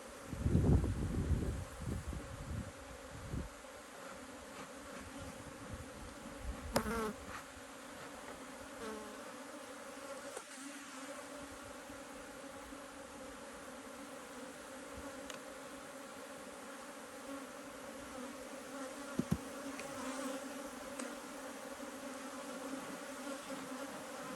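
Caucasian honeybees buzz around an open hive in a steady, dense drone that lasts throughout. Occasional handling knocks and rustles break in close by.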